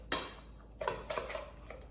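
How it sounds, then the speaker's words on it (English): Dry casserole ingredients for an apple raspberry casserole, lightly wetted with butter, stirred in a bowl: a few scraping, clinking utensil strokes against the bowl, close and moderately quiet, with no voice. "You're just mixing these ingredients, and they're just mostly dry."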